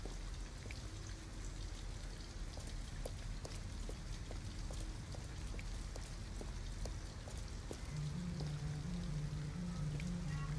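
Steady rain patters continuously with scattered distinct drips in the video game Detroit, a soft even wash of falling water with a low hum joining near the end.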